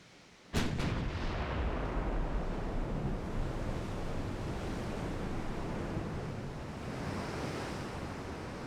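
Naval gunfire in the warship game Ultimate Admiral: Dreadnoughts, a sudden loud blast followed by a long sustained roaring rumble that slowly fades, with no voices.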